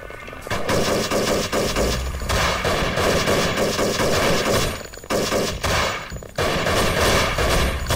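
Dense, continuous rapid gunfire from a heavy weapon in the video game Thing Thing 4, loud and relentless, with only brief breaks in the barrage.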